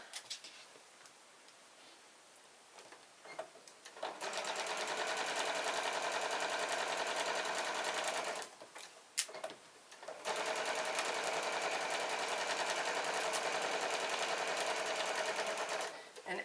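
A sewing machine stitches a quarter-inch seam on a quilt block, running in a fast, steady whir of close needle clicks for several seconds, pausing briefly, then running again, with a quiet voice at the start.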